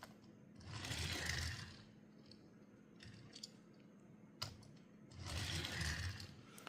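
A Tomica Toyota GT 86 die-cast toy car being rolled: two swelling rolling rumbles, each about a second long, close by, with quieter small clicks and handling noise between them and no talking.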